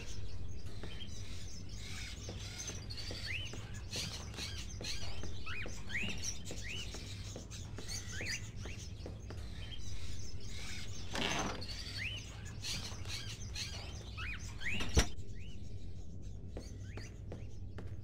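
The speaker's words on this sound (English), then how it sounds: "Are those crows in the cages?" Caged crows in a gloomy house in the video game Fahrenheit give soft, repeated chirps and calls over a constant low hum, with occasional scratchy rustles throughout.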